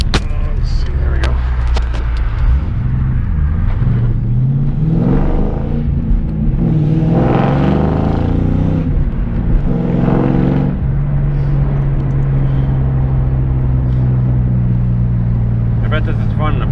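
A Ford Mustang engine heard from inside the cabin while riding along, a loud, constant rumble that rises in pitch as the car accelerates, with people talking over it.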